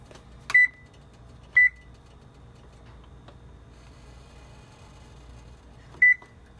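Oven timer being set to 15 minutes during home meal prep, with three short electronic beeps spaced a second or more apart, clear and near over a low kitchen hum.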